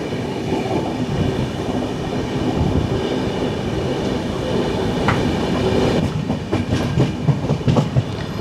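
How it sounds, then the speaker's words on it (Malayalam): A train, likely the Madras Mail, departs on an adjacent line at a Kerala station, heard as a steady rumbling roll with clickety-clack wheels and occasional squeals, fairly close and continuous. "ഏതോ ഒരു ട്രെയിൻ ആ ലൈനിൽ ഡിപ്പാർട്ട് ചെയ്യുന്നുണ്ട്"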